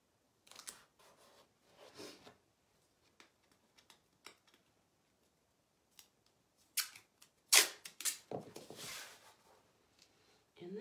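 Tape being pulled off the roll and pressed down along the edges of an unstretched canvas, sharp ripping bursts in irregular clusters with quiet gaps, close by.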